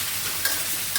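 Fish frying in a pan on a home stove, a steady close sizzle with brief stirring scrapes and no voices.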